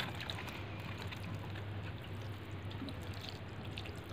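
Water poured steadily into a container of dill mixed with cow dung manure, a continuous splashing trickle heard close and alone.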